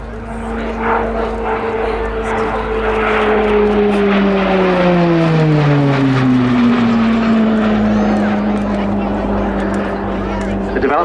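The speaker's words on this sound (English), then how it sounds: "The development of the Brazilian designed and built Embraer EMB 312 Tucano, produced in revised form by Short Brothers of Belfast." An Embraer EMB 312 Tucano turboprop trainer passes at an air show, loud propeller drone whose pitch slides steadily downward as it flies by, close and dominant, with a commentator talking over it.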